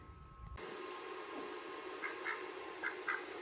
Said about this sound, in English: I bought these ducks last year.